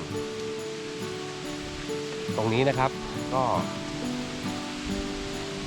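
New Phen Phop waterfall on Phu Kradueng after rain, a steady broadband rush of falling water under someone talking in the foreground.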